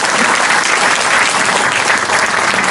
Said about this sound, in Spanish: Así que les pido un aplauso para Arely